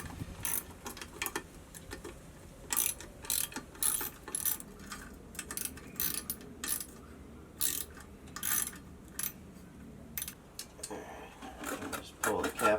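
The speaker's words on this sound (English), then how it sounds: "use that same socket on the back here and remove and loosen these 2 screws to the cap" A socket wrench loosens screws on the back end cap of a VGreen 2.7 variable speed pool pump motor, giving quiet bursts of ratcheting clicks in short repeated runs, close up over low background hum.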